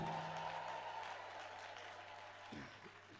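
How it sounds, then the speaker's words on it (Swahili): A church congregation applauds for Jesus, a steady wash of clapping that holds at a fairly even, moderate level throughout. "Tupatie Yesu makofi mazuri."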